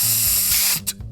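A spray can hisses in a steady, loud, close burst, then cuts off with a couple of short spurts at the end.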